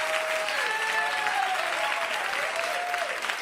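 A comedy club crowd claps loudly and continuously at a stand-up show, a dense, even wash of hands broken by a few high whoops and cheers.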